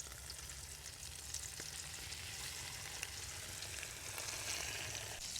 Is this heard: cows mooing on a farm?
no